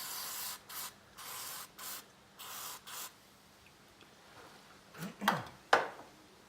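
Short hissing bursts of oil sprayed onto metal to keep it from rusting, about six puffs in uneven rhythm, followed by a few sharp clinks of handling at the end.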